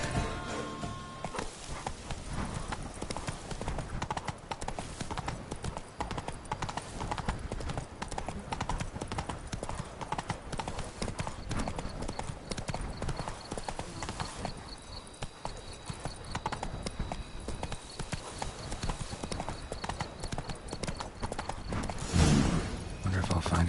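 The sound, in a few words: Geralt's horse Roach galloping in video game Witcher 3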